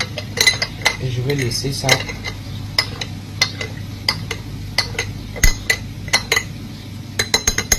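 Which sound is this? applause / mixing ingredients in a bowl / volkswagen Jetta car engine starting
mixing ingredients in a bowl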